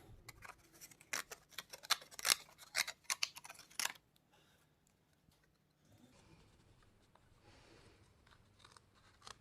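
Scissors cut out paper wire figures in a quiet room, a rapid burst of crisp snips and crunches for about four seconds, then near silence with faint rustling.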